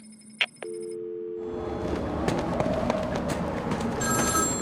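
Telephone ringing in the Batman Arkham City game on PC, a short tonal ring near the start, then a continuous loud noisy ambience of game sounds over the rest.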